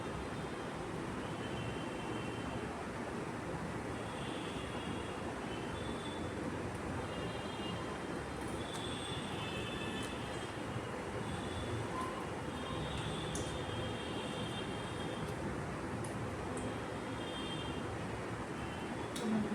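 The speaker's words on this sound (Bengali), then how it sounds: "ট্রেনে আসছি" A train ride heard from inside the carriage: a constant, muffled low rumble with faint high squeaks drifting in, steady and quiet throughout with no talking.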